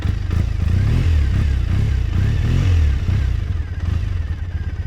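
A stock Triumph Bonneville T100 parallel-twin idles and blips through its stock exhaust pipes up close, a loud, steady, throbbing rumble with a few slight rises in revs and no talking.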